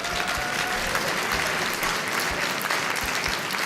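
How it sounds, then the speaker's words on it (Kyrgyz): Steady applause from a group of children and adults during a classroom quiz game, dense and continuous clapping throughout, close and loud, no talking over it. "Баракелде, кол чабуулар болсун."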